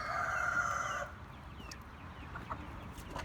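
Chickens cluck and a rooster-like call sounds loudly for about a second, then a few faint scattered clucks follow over quiet farmyard background.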